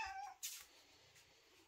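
A house cat gives one clear, close meow at breakfast time, followed by a short rustle and quieter shuffling sounds.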